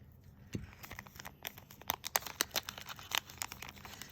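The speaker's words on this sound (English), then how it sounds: "just to show you another way to open these, I'm just going to cut them" Scissors cut open foil packets of Color Street nail polish strips, giving a quick series of close, crisp crinkling snips and rustles, quiet and with no talking.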